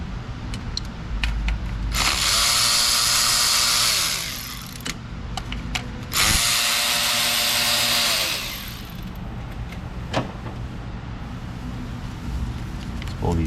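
Power tool spinning off the ignition coil nuts on a Toyota Highlander 3.3 V6, two loud whirring bursts of a few seconds each with a pause between, followed by faint clicks and handling noises nearby.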